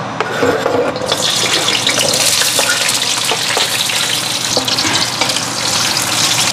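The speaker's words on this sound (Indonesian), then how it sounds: "Untuk bumbu lembar yaitu bawang merah, bawang putih, kemiri dan cabai biar pedas. Ditumis." A paste of shallots, garlic, candlenut and chili sautés in a pan, a loud, continuous close sizzle with occasional scraping of the stirring spoon and no talk.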